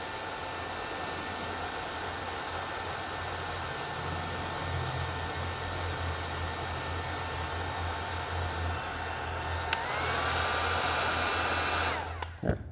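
A heat gun shrinks glue-lined heat shrink tubing on a large-gauge wire. It gives a continuous, close airy blowing hiss with a steady motor whine that shifts slightly near the end before switching off.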